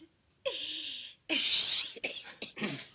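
A staged sneeze in a radio drama: a drawn-out voiced intake, then a loud hissing burst, followed by a few short breathy sounds.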